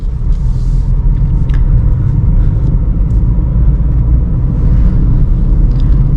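A car pulls uphill in second gear through a traffic jam, its engine giving a steady close rumble with road noise throughout and no talk.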